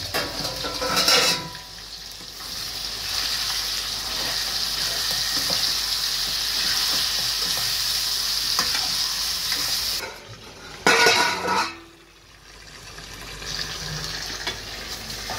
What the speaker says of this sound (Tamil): உப்பு போட்டு நல்லா மிக்ஸ் பண்ணிட்டு